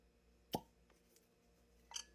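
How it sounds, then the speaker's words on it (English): A cork pops from a whiskey bottle with a single sharp, close, quiet pop, followed by a brief fainter clink after a pause. "since we're just opening this bottle, we got to give it a cork pop"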